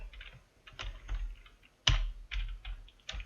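Keys clatter on a computer keyboard in irregular bursts of quick clicks, with short pauses between runs and one sharper, louder keystroke partway through, close up and clear with no one talking.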